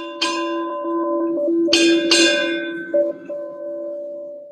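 A ship's bell rings at a US Navy change of command ceremony, struck four times in two quick pairs, bright metallic clangs with long ringing decay, loud and close with no talking.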